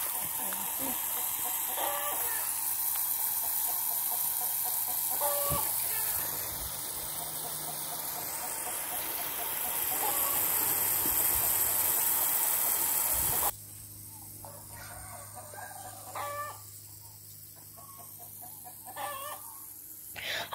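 A hen clucks repeatedly while laying an egg beside a rural vegetable garden, with short sharp clucks spaced every few seconds, near and clear over a steady outdoor hum.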